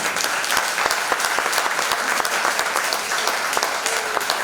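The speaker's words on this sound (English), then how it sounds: "So would you give her a round of applause?" A pre-K graduation audience applauds steadily, many hands clapping in a dense, sustained wash with no speech over it.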